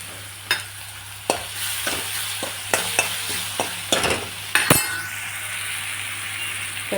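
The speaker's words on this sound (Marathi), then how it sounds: "चांगलं फ्राय करून घेऊ." Potato and pea curry fries in a pan with a soft, steady sizzle. A spoon stirs it, clinking sharply against the metal every second or so.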